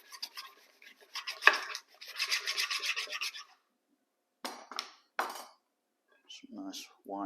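White cabbage is shredded for coleslaw in raspy, grating bursts. Two longer runs of scraping come first, then a shorter burst after a pause, and a voice speaks briefly at the end.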